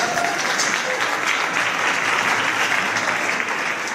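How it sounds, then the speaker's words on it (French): An audience at a Telethon opening event claps loudly and steadily for about four seconds, a dense, sustained applause that fills the room with no break. "On applaudit très fort."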